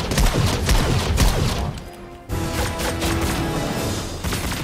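Gunfire in a Fortnite match comes as a dense, continuous barrage of shots and impacts, loud and close. It breaks off briefly for a moment, then picks up again, with no voice over it.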